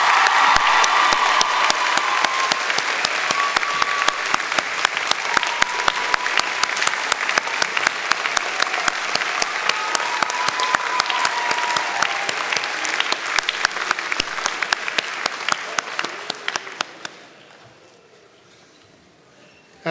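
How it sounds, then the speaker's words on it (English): A large convocation audience claps steadily for family and friends, dense crisp applause filling the hall for about seventeen seconds before tapering off into quiet. "Graduates, a round of applause for family and friends."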